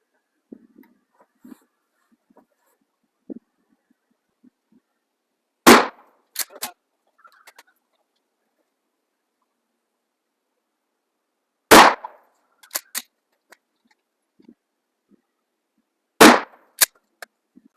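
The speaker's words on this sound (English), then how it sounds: "we got 3 mini slugs in the 12 gauge shockwave here for the first round" Three loud, sharp shotgun blasts from a 12 gauge Shockwave loaded with mini slugs fired outdoors, spaced about six seconds apart, each followed by brief clinks and rustles, with quiet handling noise between.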